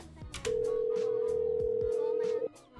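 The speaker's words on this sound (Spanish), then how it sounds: "en este caso no llaman a tu puerta, sino te llaman al teléfono" A telephone sounds one sustained, steady electronic tone for about two seconds, close and clear, as a prank call comes in, with faint sounds around it.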